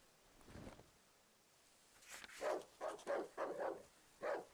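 Dogs in the survival horror game Darkwood bark in a quiet run of short, separate barks, fairly soft and spaced over a few seconds with no talk.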